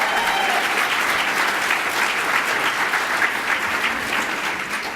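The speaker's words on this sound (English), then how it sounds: "So a round of applause for that" Audience applause from a large gathering of people with type 1 diabetes, a steady, dense clatter of clapping that holds evenly for the whole stretch without fading.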